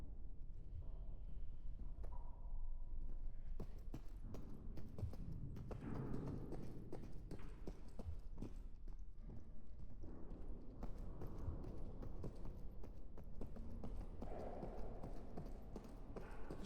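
Heavy, regular footsteps of a monster stride through spaceship corridors in the horror game Species Unknown, a steady clopping cadence that continues throughout at moderate loudness with no voices.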